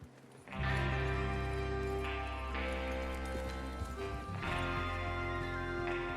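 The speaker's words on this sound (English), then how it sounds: "Get your horses ready." Horses gallop in the video game Red Dead Redemption 2, a steady clip-clop of hooves rolling under a loud game soundtrack, continuous and close, with a brief whinny-like rise amid the music.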